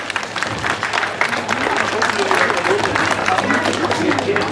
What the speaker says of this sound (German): da vermisse ich doch einen tollen Applaus nach hier vorn